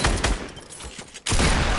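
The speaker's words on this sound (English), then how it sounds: "Nah, shoot straight through it." Video game gunfire fired straight through cover without reloading: dense, loud bursts of rapid shots filling the clip, a brief drop near the end, then the firing resumes at full strength.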